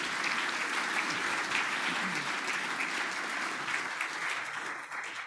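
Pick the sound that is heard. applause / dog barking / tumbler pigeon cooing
applause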